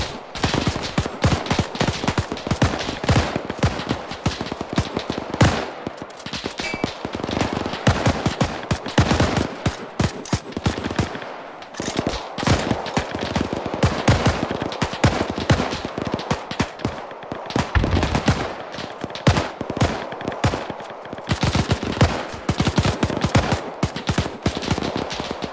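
Machine gun fire in the military game Arma 3, with loud, rapid bursts and crackling volleys of gunshots repeating throughout, close and dense with short pauses.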